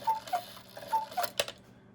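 Cuckoo clock mechanism turning at four o'clock with a weak bellows, giving a few close, soft tonal pipes and ticks in a short sequence, then a brief clack before quiet.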